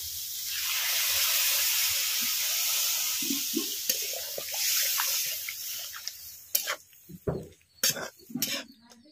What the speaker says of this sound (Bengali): কাঁকড়াটা ভালো করে নাড়াচাড়া করে নিয়েছি, এখন জল দিয়ে দিচ্ছি।